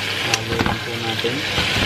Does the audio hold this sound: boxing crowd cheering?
no